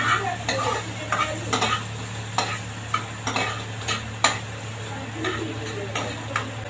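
Kimchi fried rice with chili and a little soy sauce stirred in a hot pan: a constant sizzle broken by sharp scrapes and clicks of the utensil against the pan at an irregular, quick pace.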